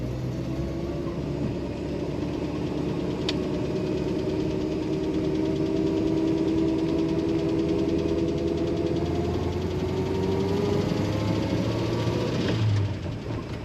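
Steady engine drone of a 1935 Pierce-Arrow Model 845 enclosed-driver limosine as it shifts down to second for a roundabout, a continuous mid-pitched hum with pitch slowly sliding, a brief clunk near the end.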